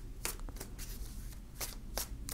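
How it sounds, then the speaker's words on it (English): Tarot cards are shuffled by hand in quiet, soft papery bursts of riffling and sliding that repeat several times. "Okay, we'll shuffle."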